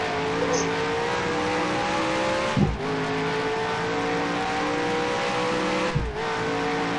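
Stock car engine in NASCAR Heat at Sonoma holding a steady loud drone, dipping twice as the driver brakes and lifts off, then climbing back as power returns.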